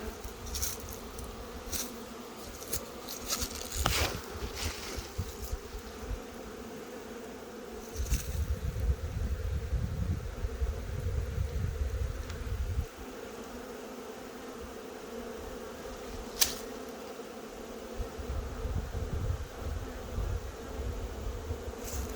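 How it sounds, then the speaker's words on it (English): A steady drone of buzzing bees fills the air throughout, rising and falling in loudness with a few sharp knocks. "These bees are just sitting there."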